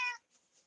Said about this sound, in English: Now I have a cat that's going to start shouting at me in the room.